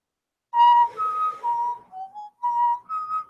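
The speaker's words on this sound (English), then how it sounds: "So shut up all that whistling." A person whistles a short tune of sustained, pure tones in several separate phrases, fairly loud and close, with brief pauses between notes and no talking.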